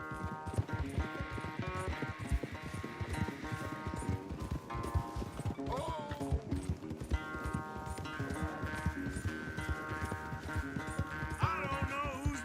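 A horse gallops in the Red Dead Redemption 2 video game, rapid rhythmic hoofbeats pounding continuously during a race, layered under a game music score, with no speech.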